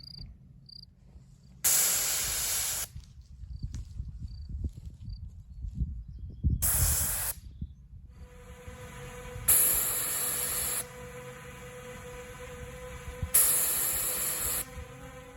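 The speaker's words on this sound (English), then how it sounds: "This bear mace only has about a 30-foot range." A bear spray canister fires four separate hissing bursts outdoors, each lasting about a second, with quieter stretches of insect buzz and ambient noise between them.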